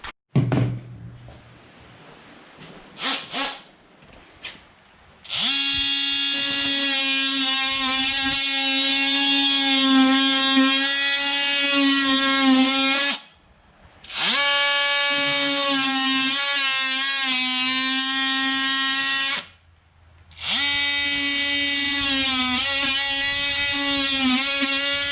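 An oscillating multi-tool saws through drywall on an exterior wall to cut an opening for a single-gang outlet box, a loud steady buzzing in three long runs with short pauses, after a few knocks at the start.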